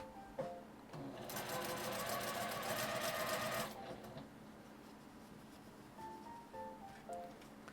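A sewing machine stitches a Seria cut-cloth popcorn fabric hairband in one fast burst of about two and a half seconds, followed by quieter handling of the cloth.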